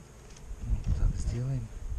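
Honey bees buzz around hives at an apiary in spring, during beekeeping work to replace and disinfect the hives. A low, steady drone sits close by, with a voice talking briefly over it.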